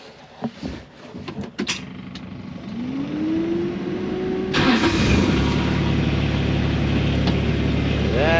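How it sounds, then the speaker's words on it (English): A vehicle's engine is cranked with a rising starter whine and catches, settling into a loud close idle after a few clicks and knocks of handling beforehand. "I guess we're gonna fire this thing up and we're gonna, I guess, see how it rides."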